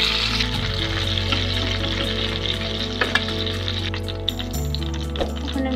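Pieces of country chicken fry in oil in a pan for a roast, giving a steady, close sizzle with scattered pops and crackles over a low background hum.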